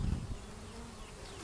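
Honey bees buzzing close by during a hive inspection in summer heat, a steady low drone throughout with no talking.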